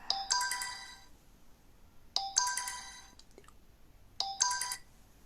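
Phone ringtone for an incoming video call, a bright electronic melody repeating three times at regular intervals, fairly close and clear with no talking.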